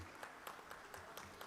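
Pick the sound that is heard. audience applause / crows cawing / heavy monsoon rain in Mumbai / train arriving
audience applause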